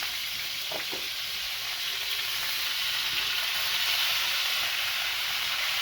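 Food frying in an old cast iron skillet, a dense, even sizzle and hiss that holds steady throughout, close up, with a couple of faint clinks early on and no talk.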